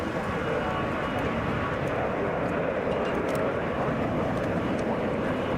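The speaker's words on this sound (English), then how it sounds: "Wheels down right now for Delta Airlines Flight 437, coming in from San Francisco." A Delta Airlines Boeing 737 landing at Hartsfield-Jackson airport in Atlanta, heard as a steady, loud broadband jet roar that holds without a break throughout.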